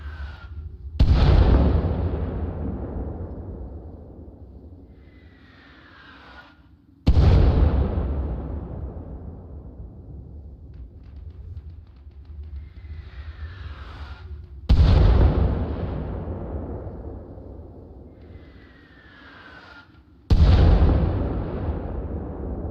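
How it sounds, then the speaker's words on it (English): Mortar rounds slam down in Arma Reforger, four heavy booming explosions spaced several seconds apart, each a loud sharp blast trailing into a long rumbling decay with no talk over them. "Mortars inbound, shots inbound."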